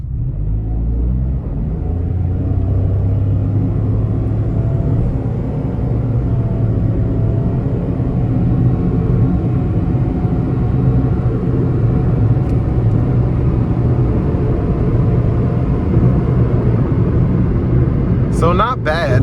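A 2024 Mitsubishi Mirage ES accelerates onto an interstate, its small engine droning with a steady, loud rumble through the cabin that holds for the whole run, with a brief clatter near the end.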